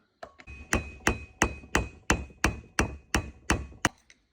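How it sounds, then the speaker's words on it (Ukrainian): A hammer strikes a front wheel bearing on a Mercedes E-Class about ten times in a steady, even rhythm, each blow sharp and ringing, loud and close with no voices. "Молоток в допомогу."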